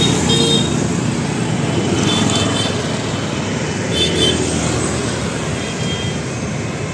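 Road traffic streams over Ranchi's Sujata overbridge at night, a loud, constant engine rumble and tire roar from a long line of vehicles, with faint horn toots now and then.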